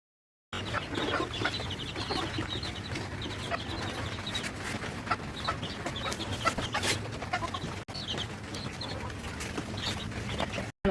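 Chickens cluck near a pigeon cage on a small farm, a faint, steady scatter of calls through a low rumble, with no talk.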